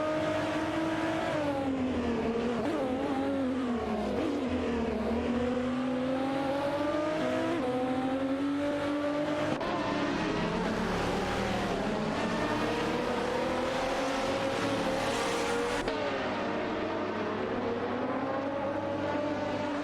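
Video game race cars, including a Maserati MC12 and a BMW M3 E46 GT, drone with continuous engine noise that rises and falls in pitch through gear changes and acceleration, steady and loud with no talking.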